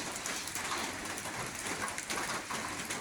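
Steady rain falling outdoors, a dense, even hiss of drops that keeps going without a break, with no voices.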